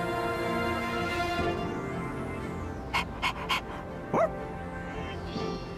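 Koromaru the dog in Persona 3 Reload, panting and a few short yips over looping game music, close but modest in volume.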